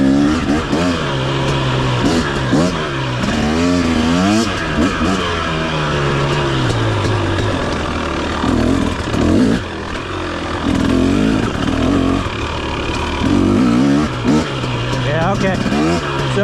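A 2023 KTM 250 XC two-stroke dirt bike revs loudly and close, its engine pitch climbing and dropping in repeated wavering surges throughout, with a voice talking over it at times.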